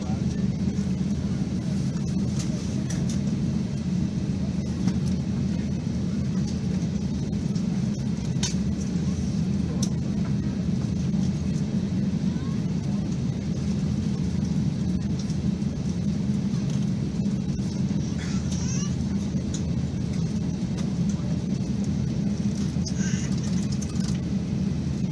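Airliner engines at full takeoff power on departure from Doha bound for Boston, heard from inside the cabin as a steady, loud, unbroken roar that holds for the whole stretch.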